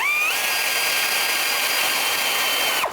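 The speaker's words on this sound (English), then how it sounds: "14 millimeter socket for the top bolt" A powered socket tool drives a bolt on a Toyota RAV4 alternator, making one loud, continuous high motor whine for almost three seconds before it cuts off sharply.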